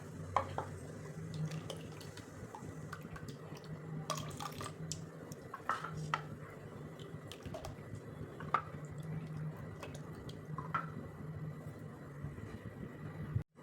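Water is stirred into a thin jowar flour batter in a bowl, giving a soft continuous wet squishing and sloshing with occasional light clinks of the spoon against the vessel, fairly faint and steady.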